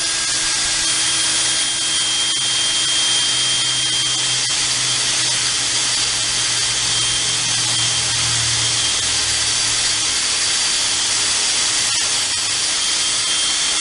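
A loud, continuous high-pitched whine of a handheld power drill boring steadily, used without a drill press on a pallet ripper prototype, running close and without pause throughout.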